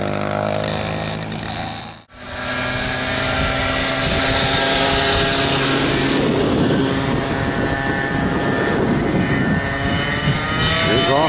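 A TAG Gazelle racing kart engine winds up to speed, a loud, buzzing two-stroke drone that cuts out briefly and then climbs and holds a dense, high whine.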